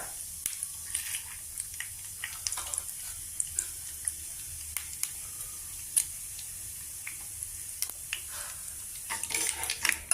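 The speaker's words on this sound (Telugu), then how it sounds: "ఆవాలు చిటపట్లాడుతున్నాయి" Mustard seeds, urad dal and cumin crackle and pop in hot oil for coconut mint chutney tempering, a scattered run of sharp little bursts over a quiet sizzle, growing busier at the end.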